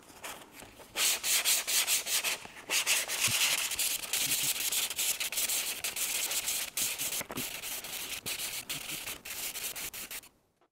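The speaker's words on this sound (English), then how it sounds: "now we can start sanding. I like to start with 240 grit paper and then move to 400 grit paper" Steady, scratchy rubbing of 240-grit sandpaper against primer on a plastic model rocket, repeated strokes continuing for several seconds before stopping abruptly.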